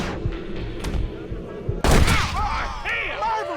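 A volley of gunshots in the Red Dead Redemption video game, sharp cracks and a heavy boom with echoing ricochet-like tails, close and loud, mixed with game voices speaking.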